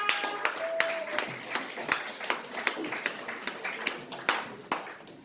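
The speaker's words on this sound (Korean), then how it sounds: "큰 박수 부탁드립니다." Audience clapping at a health lecture to welcome the speaker, scattered individual claps with sharp transients giving a thin, uneven round of applause rather than a dense roar.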